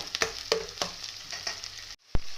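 Ginger garlic paste sizzles in a hot pan for chicken curry, with a loud steady frying hiss broken by several sharp stirring scrapes. It cuts out briefly near the end, then returns with a burst.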